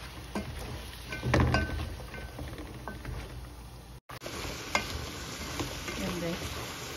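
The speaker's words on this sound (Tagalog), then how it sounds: "Halo-haloin na natin guys hanggang sa lumambot yung okra." Okra (bamia) fries in a pan while a utensil stirs it, a soft continuous sizzle broken by scraping and light clinks of the spoon against the pan.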